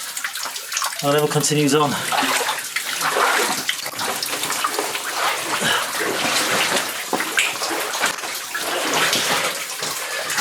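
Water pours down from the roof of a cave in a constant rushing splash close by, while someone speaks briefly over it.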